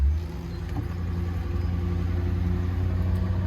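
A 2013 GMC Sierra Denali 3500 truck engine runs with a steady low rumble, close and continuous, as the truck pulls away; no voices.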